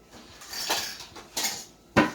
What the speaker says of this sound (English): you're just going to take the cabbage and put it inside the jar